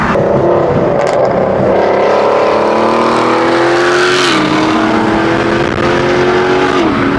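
BMW G80 M3 engine pulling hard under acceleration on the road, a loud close rising roar that climbs in pitch, dips briefly at a gear change, then climbs again, with no talking.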